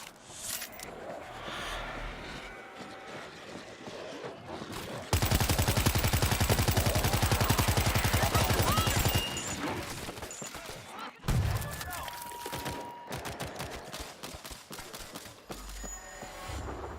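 Heavy .50 cal machine gun firing in the zombie shooter World War Z, a loud sustained burst of rapid automatic fire lasting several seconds amid other game noise, with a second shorter burst later.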